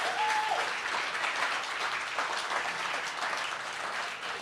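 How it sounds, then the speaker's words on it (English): An audience at a live storytelling festival gives a round of applause for the volunteers, a steady broadband wash of clapping that fills the whole stretch at an even, fairly loud level. "Give a round of applause to all the volunteers."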